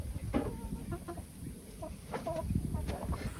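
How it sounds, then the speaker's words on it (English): Chickens clucking in a coop, a steady scatter of soft nearby clucks and murmurs with faint background noise and no clear talk. "Well, Mike, she's not laying. So as soon as she starts laying, I'll be collecting more eggs"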